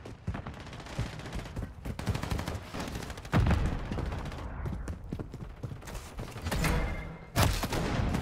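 Call of Duty DMZ combat brings loud, sharp gunshots, including sniper fire, in repeated cracks over a busy game soundscape, with heavier blasts standing out near the middle and end.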